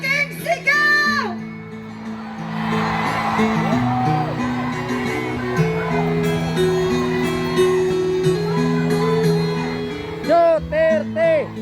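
A large crowd at a Davao anniversary celebration roars, shouts and cheers in a loud sustained swell, with whoops and a voice over a public address rising through the noise.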